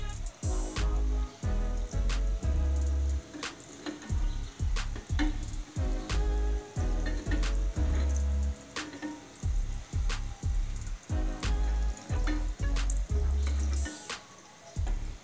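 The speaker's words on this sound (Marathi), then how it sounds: "आणि मीडियम गॅसवर तळायचे." Sweet potato gulab jamun fry in oil over a medium gas flame, giving a steady, bubbling sizzle that runs under rhythmic background music throughout.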